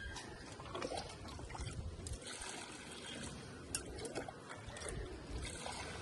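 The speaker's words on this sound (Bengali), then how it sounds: "এমনভাবে জল দেবেন যেন পিছন দিয়ে জলটা বেরিয়ে যায়, পুরো ভর্তি করে জল দেবেন।" Water is poured into a potted lemon tree until the pot fills and drains out the bottom, giving a continuous soft trickling and gurgling wash at low level.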